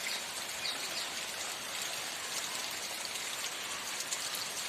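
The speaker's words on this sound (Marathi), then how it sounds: "पाऊस तर पडलाच पाहिजे सगळीकडे" Steady rain falls all around, a dense even patter with faint birds chirping in the distance.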